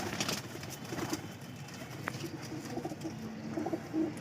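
Breeder racing pigeons cooing softly in a loft, low repeated coos faint against a noisy background hum, with no talk.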